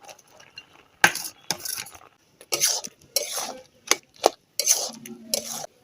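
Chopped bottle gourd is tipped into boiled lentils for Bengali lau dal and stirred, with spoon clinks and scrapes against the pot coming in short separate bursts between quiet gaps, close and fairly soft.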